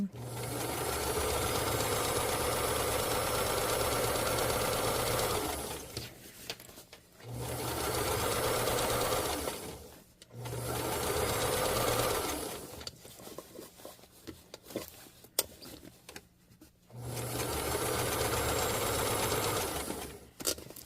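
A sewing machine stitches a winter puffer coat while a zipper is replaced with leather piping, running in several long steady bursts of rapid needle hammering, separated by pauses with handling noise.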